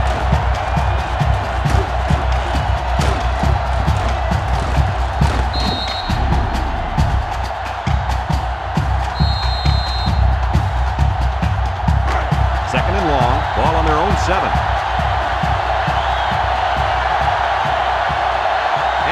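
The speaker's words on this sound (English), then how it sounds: "This crowd is going absolutely crazy." Stadium crowd noise from the NCAA Football 2005 video game, an Auburn versus LSU rivalry game, swells as a constant loud roar beneath play-by-play commentary throughout.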